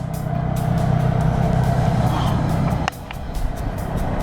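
Three-wheeler motor taxi in Sri Lanka cruising at 40 km/h: a steady, close, buzzing engine drone with road rumble, interrupted by a brief dip and a couple of sharp clicks before the engine resumes.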